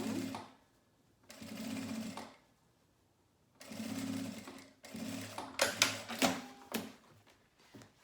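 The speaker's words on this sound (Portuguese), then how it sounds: "Aí, a gente vai costurando aqui por toda essa extensão." A sewing machine runs in three bursts of steady whirring stitching while sewing a manicure pouch, loud and close, with short pauses between runs and a busier, clattering final burst.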